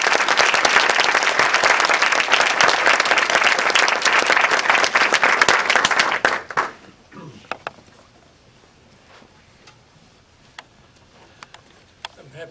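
Audience applause welcoming Claudio Naranjo at a talk on group work, loud sustained clapping for about six seconds that then cuts off abruptly, leaving a quiet room with a few scattered faint knocks.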